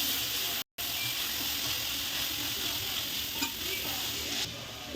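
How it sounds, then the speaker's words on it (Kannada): Coconut, coriander leaves and grated carrot frying in a pan for ragi uppittu, a continuous close sizzle with soft stirring scrapes, interrupted by one brief dropout early on. "ಕೊಬ್ಬರಿ, ಕೊತ್ತಂಬರಿ ಸೊಪ್ಪು, ಆಮೇಲೆ ಅಷ್ಟೇ ಅಲ್ಲ ಕ್ಯಾರೆಟ್ ತುರಿ, ಇಷ್ಟನ್ನು ಹಾಕಿ ಫ್ರೈ ಮಾಡಿ"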